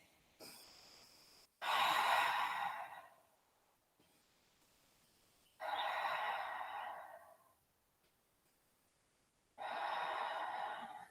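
Three long, deep breaths come during a slow yoga session on a mat. Each is a close, loud, airy exhale that follows a brief quiet inhale, with pauses of near silence between them.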